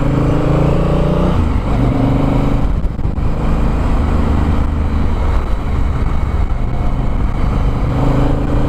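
A Honda Africa Twin motorcycle lugs in first gear, its engine a loud, close, continuous low rumble that labors and varies unevenly over rough brick streets, with no talking.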